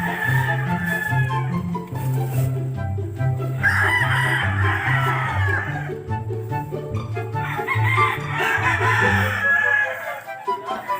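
Roosters crow on a gamefowl farm, several long cock-a-doodle-doo calls rising over a steady bed of clucking and farmyard chatter, loud and near, with no clear talk.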